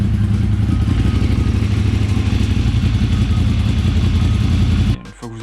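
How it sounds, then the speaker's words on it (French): A Ducati Monster motorcycle engine runs loud and close at a steady idle with a rapid pulsing beat, running to circulate oil pressure after a service, then cuts off abruptly near the end. "il faut faire absolument tourner la moto pour remettre le circuit d'huile en pression"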